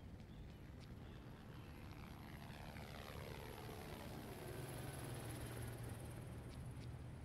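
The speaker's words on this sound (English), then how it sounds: "Alright, sod you, helicopter." Helicopter in the survival game Project Zomboid drones steadily overhead, a broad continuous engine and rotor rumble that swells slightly louder over several seconds, with no talking.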